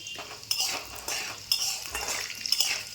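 Dried chilli, bay leaf, cinnamon, cumin and cardamom frying in hot oil in a kadai, a steady soft sizzle with a spoon scraping and stirring in repeated strokes, close and without talk.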